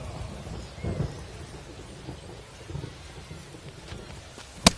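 Steady rain with low rumbling thunder at a baseball game in MLB The Show 25, a constant wash of rainfall with a couple of soft rolls and a brief louder burst at the end.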